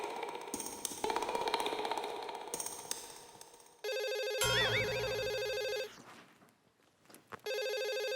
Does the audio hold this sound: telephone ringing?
yes